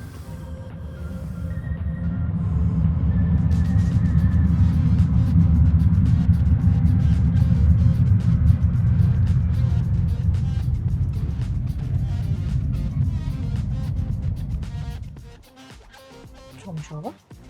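An airplane passes low over the runway end at Hong Kong's airport, heard from inside a 2025 Tesla Model Y: a loud, deep rumble that swells and holds for about fifteen seconds, then drops away abruptly.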